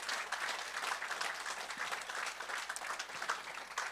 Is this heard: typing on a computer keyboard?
no